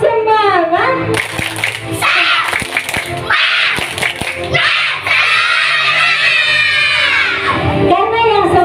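Children at a school religious gathering perform a rhythmic clapping chant: bursts of quick, sharp claps mixed with loud, shouting young voices. An adult voice leads over the group.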